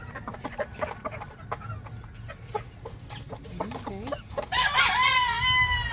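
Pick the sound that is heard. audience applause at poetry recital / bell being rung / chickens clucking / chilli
chickens clucking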